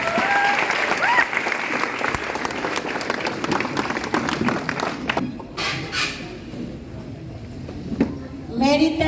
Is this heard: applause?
yes